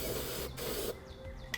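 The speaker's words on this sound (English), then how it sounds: "I always like to take some spray paint. Just spray it so there's no more bare metal exposed," Spray paint sprayed onto the bare metal of a 2013 Cadillac SRX bumper frame, two close continuous hissing bursts from the can with a short gap between, followed by a quieter tail.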